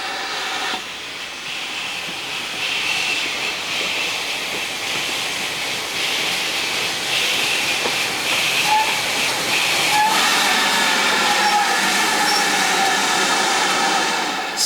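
GWR Manor class steam locomotive 7828 Odney Manor passing through a rural station, a loud continuous hiss and rumble of steam and rolling wheels that builds gradually, with no voices.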